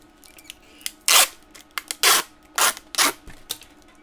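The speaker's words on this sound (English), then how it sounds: "let's grab my trusty tape gun" A handheld tape gun seals a cardboard mailer holding a bagged and boarded comic book, giving several loud, close, rasping rips of tape in irregular bursts with short quiet gaps and faint handling noises between them.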